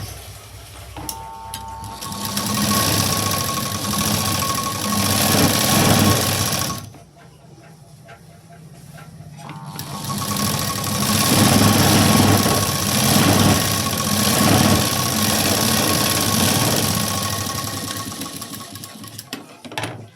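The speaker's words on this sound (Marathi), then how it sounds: "इथे परत एक शिलाई द्यायची" Sewing machine stitching a blouse sleeve, a fast, close mechanical whir running in two long bursts separated by a quiet pause of a few seconds.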